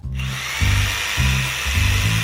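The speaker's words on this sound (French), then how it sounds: "J'aurais besoin de quelques planches et d'une scie pour cela." A saw rasps through wooden planks in three steady strokes, each a loud grinding pass with short gaps between, close by and alone with no talk.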